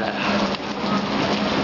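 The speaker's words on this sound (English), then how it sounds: "Every single time you go canoeing, it starts raining." Rain falling steadily during a canoe trip, a dense, loud, continuous hiss of drops with no pauses and no voices.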